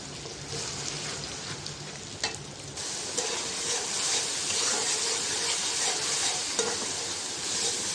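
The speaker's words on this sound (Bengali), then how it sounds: "মশলাটা এখন কষাই নেব ভালো করে" Spice paste with garlic paste frying in a hot pan for a fish-head curry, a steady loud sizzle with scraping stirring strokes throughout, no voices.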